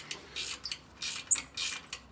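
A 12mm flex wrench ratchets on a bolt of a Toyota KDSS plate, giving short clicking bursts in an irregular rhythm with small metallic squeaks, close and fairly quiet.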